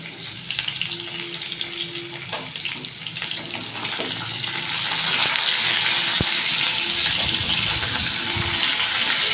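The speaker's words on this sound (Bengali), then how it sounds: "ভেজে নেবো আলুটা।" Potato fries in a pan with salt and turmeric, a steady sizzling hiss that grows louder and fuller partway through, with no talking.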